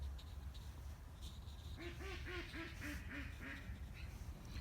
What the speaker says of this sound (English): That's a duck you can hear in the background.